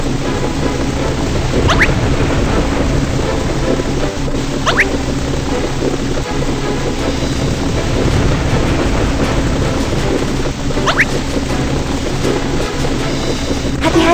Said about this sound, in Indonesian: Hati-hati, badai semakin kuat.